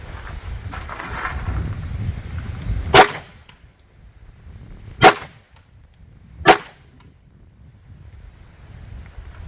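Three separate gunshots from a Devil Dog Arms 1911 pistol, fired at steel targets outdoors. Each crack is sharp and fairly close, with gaps of about two seconds and more between them, over steady wind noise on the microphone.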